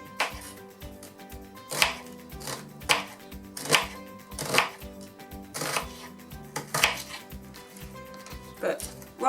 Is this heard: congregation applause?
no